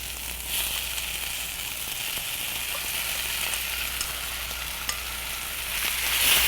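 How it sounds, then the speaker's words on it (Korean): Marinated pork belly for spicy stir-fried squid and pork sizzles steadily in a hot pan, with a constant close frying hiss and occasional light stirring clicks. "이제 여기에 미리 마리네이드 했던 살짝 버무려 두었던 삼겹살 이거를 여기다 넣도록 할게요."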